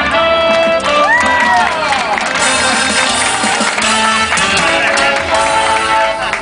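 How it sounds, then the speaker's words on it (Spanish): A loud festival crowd at a Vela Muxe celebration in Oaxaca cheers and applauds an ambassador, with band music playing prominently over the continuous crowd noise. "¡Fuerte el aplauso para la embajadora Paloma Escandada!"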